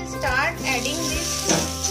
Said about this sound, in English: this way you need to spread the potato on tawa